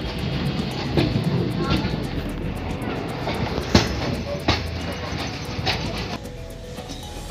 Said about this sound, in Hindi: यहाँ आप देख सकते हैं कि हमारी ट्रेन हापुड़ वाली लाइन पर स्विच कर चुकी है